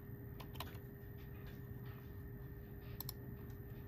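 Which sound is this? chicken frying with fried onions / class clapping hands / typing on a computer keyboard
typing on a computer keyboard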